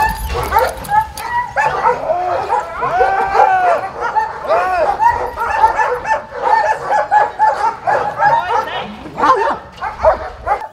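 A police German shepherd barks and yips in rapid, loud bursts during a detention, excited volleys with whimpers mixed in, continuing for about ten seconds.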